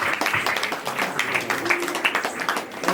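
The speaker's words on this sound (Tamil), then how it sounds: "ஜோரா கைத்தட்டம்." Audience clapping at a prize announcement during a Kali puja festival, a steady patter of many hands with scattered sharp claps, fairly close and continuous.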